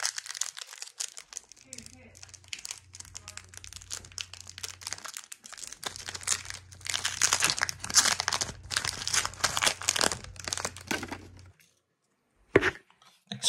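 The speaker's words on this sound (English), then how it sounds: "Next pack. Here we go." Foil wrapper of a 2022 Topps Gallery baseball card pack being ripped open, a long stretch of continuous close crinkling and tearing that ends abruptly, followed by a brief rustle near the end.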